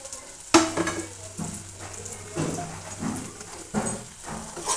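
Tomatoes mixed with chilli powder for dhaba-style dal tadka are stirred in a pan, with a soft sizzle and a few sharp spatula knocks and scrapes close by.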